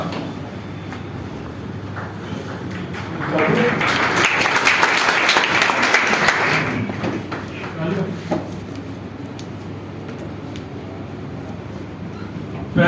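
Audience applause breaks out at a talk event in Prayagraj, a loud burst of clapping lasting a few seconds in the middle, with someone speaking before and after it.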